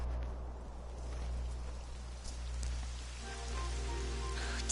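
Rain beginning to fall in Dragon Quest 11, a soft steady patter of drops over a low constant drone of background music, with no talking.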